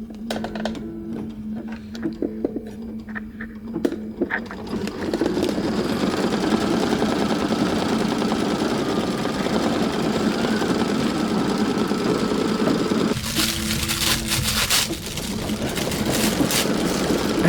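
An embroidery machine stitches a quilt block with Mylar sheets, a steady loud mechanical whir and rapid needle chatter running continuously after a brief quieter start, with a short shift in tone near the end.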